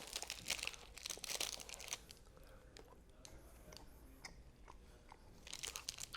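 Bites of a No Cow lemon meringue vegan protein bar, with a crinkling wrapper and crisp crunching chews up close, loudest at the start and again near the end, with no talking.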